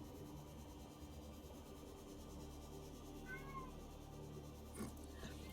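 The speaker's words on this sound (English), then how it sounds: "I don't know if you can hear the cat." A house cat gives a faint, short meow in the middle of a quiet room, set against a low steady background hum. Nobody speaks.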